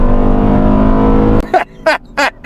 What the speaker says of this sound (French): C'est une sonorité extraordinaire pour une mini fourgonnette, c'est incroyable.